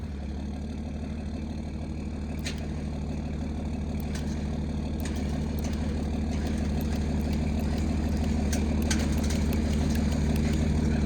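A car engine idles low and steady as the car is eased forward off a winch, with faint clicks and taps scattered over the hum.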